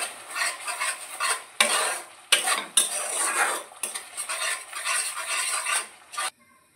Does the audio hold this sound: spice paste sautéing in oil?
yes